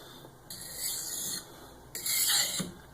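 A knife blade rasps across a coarse waterstone in two slow, gritty strokes, each a sustained scraping rub with a quiet pause between, close and alone.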